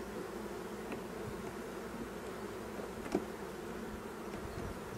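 Honey bees hum steadily around an opened hive during a spring inspection, with pollen packed into the comb cells nearby. A dense, even drone holds throughout, with one brief louder buzz passing close.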